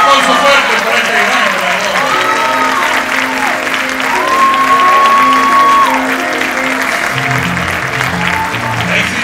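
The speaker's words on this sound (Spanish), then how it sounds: "Un aplauso fuerte por este gran" A large audience applauds a winner at an awards night, a loud, steady wash of clapping from a big crowd that continues throughout while music with sustained tones plays beneath it.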